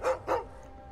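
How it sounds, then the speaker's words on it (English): Two quick barks from a dog in the video game Skyrim, moderately close, followed by a quiet tail with no talking. "I was talking about the dog."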